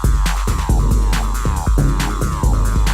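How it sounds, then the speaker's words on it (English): Acid-style synthesizer line with its filter frequency sweeping and modulated, giving a tweaky, squelchy sound over a steady pulsing throb; loud, rhythmic, repeating notes with no talking. "It's starting to sound like tweaky acid like that."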